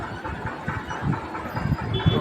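A Kolkata metro train at Howrah Maidan station, running beneath the river, gives a steady low rumble with rhythmic rail clatter and thumps, close and continuous throughout.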